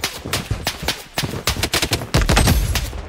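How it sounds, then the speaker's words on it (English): Bursts of rapid gunfire in the shooter video game Blood Strike during solo ranked play, loud and close, with several quick volleys followed by a heavier sustained barrage. "Taking fire!"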